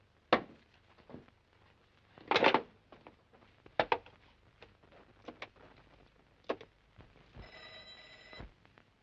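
An old telephone bell in a 1958 Hindi film rings briefly near the end, after a scattered series of sharp clicks and taps, all fairly quiet.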